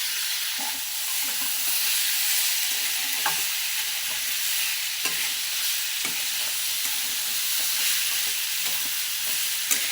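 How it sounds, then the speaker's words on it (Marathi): Boiled chickpeas stirred with masala in a pan for a dry chole dish, giving a steady, even sizzle throughout with scattered light taps and scrapes from the spoon. "परत हे चांगलं असं हलवून घ्यायचं, मग तो मसाला सगळ्या छोल्याला लागला जातो"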